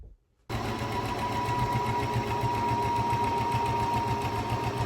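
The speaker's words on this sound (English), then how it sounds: "I'm gonna draw lines on it and then sew there to take it in." After a brief silence a sewing machine starts up and runs steadily, its needle hammering in a fast, even rhythm as it stitches dress seams.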